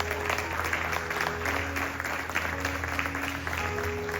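A congregation applauding during a church sermon, a steady wash of many hands clapping at a distance with a low hum underneath and no clear voices.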